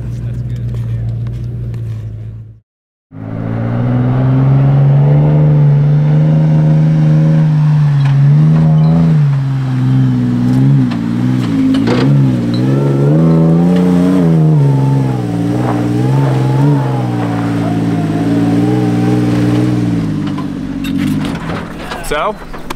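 A Magnuson-supercharged vehicle engine held at full throttle while towing a heavy trailer up a steep hill, a loud sustained drone with rising and falling revs, close and continuous after a brief cut.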